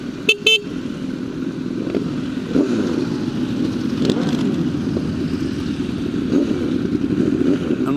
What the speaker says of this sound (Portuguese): aqui virou foi encontro de moto